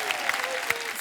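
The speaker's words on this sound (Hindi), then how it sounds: "एक बार ही ताली बजा दो इसके लिए" A short burst of studio audience clapping at a TV comedy show, many hands at once, bright and fairly close, lasting about a second.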